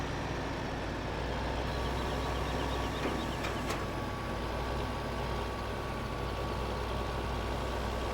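A tractor engine in Farming Simulator 15 drones steadily as it drives at speed, a constant low, heavy mechanical hum with no pauses or changes in pitch and no voices.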